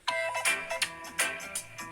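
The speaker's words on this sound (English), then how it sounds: "You know this default cell phone ring that comes with your phone?" Bright, melodic cell phone default ringtone sampled into a song, a rapid repeating pattern of chiming notes over a low beat, clear and steady for the whole stretch.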